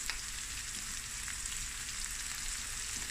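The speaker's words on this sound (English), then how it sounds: "this is going to fry just for a few more minutes" Snoek roe (kuite) sizzling in a frying pan: a steady, close, crackling hiss that holds evenly throughout, with no voices.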